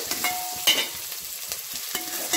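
Garlic and curry leaves fry in hot oil in a pan for a fish curry, a steady close sizzle with a few scrapes and clicks of a spoon stirring.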